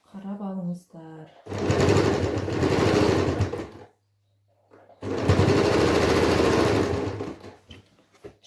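Sewing machine stitching the edge of a handmade pillow, running in two loud, steady bursts of several seconds with a pause between; someone speaks briefly before the stitching starts.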